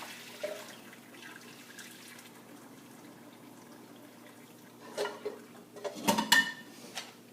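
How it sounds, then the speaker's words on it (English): Water draining out of a pot of boiled eggs, held back with the lid, gives a low steady trickle and pour, then a louder burst of splashing and dripping near the end, with no talking. "So you can use the lid if you want to kind of help you drain the water."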